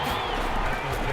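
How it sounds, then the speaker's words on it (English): Crowd noise inside the Dome during a Saints vs Falcons football video game, a continuous broad wash of cheering and murmuring fans, fairly loud and steady for the whole moment. "The crowd here in the Dome making things difficult."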